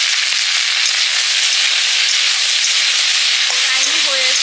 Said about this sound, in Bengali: এই ভেন্ডি ভাজাটা বাকি ছিল,